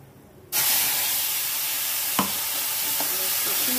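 A spice mixture hits a hot pan for a paneer and potato curry, bursting into loud, steady sizzling that continues with a faint stir or clink partway through; no one speaks.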